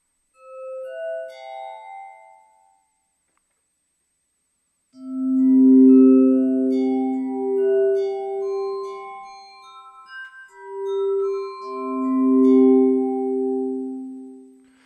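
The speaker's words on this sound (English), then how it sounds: "It's almost got like a glass harp sound to it." Yangqin mallet strikes played with a slowed, swelling attack give soft, sustained, glass harp-like tones, a short phrase followed by a louder, fuller run of layered notes with no voices.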